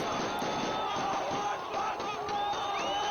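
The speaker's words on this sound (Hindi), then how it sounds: "भीड़ अनियंत्रित है, आप देख रहे हैं जिस तरीके से हल्ला हंगामा हो रहा है" An unruly crowd in Syria roars in a dense, continuous uproar of many shouting voices, loud and close throughout.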